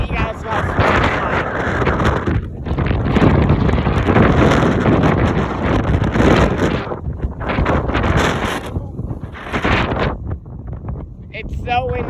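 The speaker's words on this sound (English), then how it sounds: "It's so windy, I have no idea if you guys can hear this or not." Strong wind on a gusty day in southern Kansas buffets the microphone with loud, continuous roaring rumble that swells and eases in gusts, up close and masking everything else.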